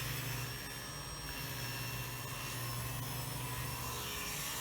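Saw resawing squared-up boards down to 3/8 inch thickness for an octagon table top, a continuous steady whine and roar with no breaks, moderately loud throughout and no talk.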